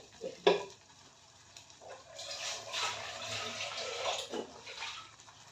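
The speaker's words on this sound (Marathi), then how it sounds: "आता त्याच्यामध्ये थोडं पाणी घालूया" A faint clink, then water pours into a pressure cooker of spinach dal for a few seconds, a soft splashing rush up close.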